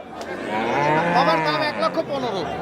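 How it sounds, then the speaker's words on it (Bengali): A large cow, a dairy cow for sale, lets out a long, drawn-out moo close by, rising and wavering over a couple of seconds. "একটা বড় গরু দেখতেছি"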